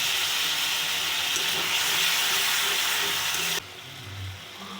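A little water goes into spices frying in oil for a kabuli chickpea curry, giving a loud, steady hiss and sizzle that stops abruptly near the end, leaving a quieter bubbling.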